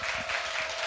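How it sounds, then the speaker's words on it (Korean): Applause from a live audience at a public lecture show in Korea, a steady dense wash of clapping heard briefly on its own. "너무나도 고생한 우리 두 사람을 위해서 박수 한번 주세요."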